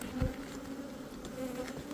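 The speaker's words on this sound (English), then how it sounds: "So the bees they like to go on the frames like this." Honey bees buzz around frames of honey supers during a beehive inspection, a steady close droning hum with a few louder passes near the microphone.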